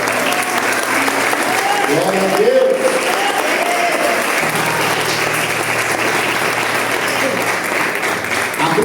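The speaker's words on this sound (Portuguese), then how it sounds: "Quantos podem saudar a Cristo com palmas?" A church congregation applauds steadily throughout, dense broadband clapping filling the room while voices call out and speak over it.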